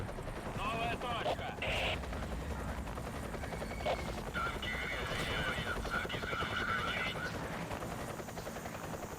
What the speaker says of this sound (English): Got a helicopter coming over.